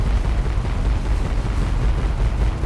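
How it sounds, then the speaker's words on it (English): A bomb glove explosion in the Ratchet & Clank video game, heard as a continuous heavy low rumble that stays loud and dense for the whole stretch, with no voices over it. "That's a bomb glove going off there."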